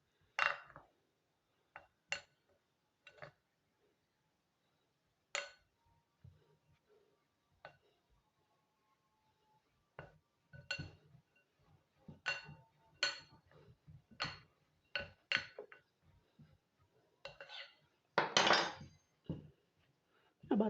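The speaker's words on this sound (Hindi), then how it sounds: "दोबारा से मिक्स करेंगे।" Potato fries being tossed and mixed in a bowl with a few spoonfuls of cooking oil, heard as intermittent clinks and scraping rattles of utensils against the dish, scattered in short bursts with quiet gaps between.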